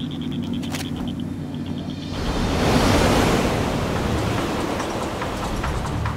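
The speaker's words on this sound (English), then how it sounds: "Storms in northwest Tasmania are common during the winter." Stormy ocean waves and gusting wind off northwest Tasmania, with surf building to a heavy, continuous roar after a quieter start, loud and close, no voices.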